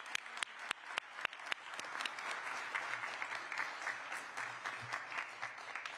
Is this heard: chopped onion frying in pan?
no